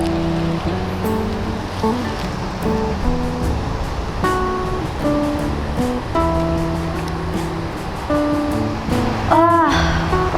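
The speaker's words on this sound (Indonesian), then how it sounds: "Deras banget ya airnya." Fast-flowing river water rushes steadily and close by, a continuous broadband wash with faint scattered tonal sounds over it and no talk.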